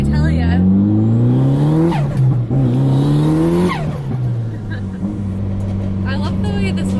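A turbocharged Mitsubishi Evo 8 engine revs hard and climbs in pitch several times on a dyno day, dropping between pulls, loud and close as if heard from inside the car.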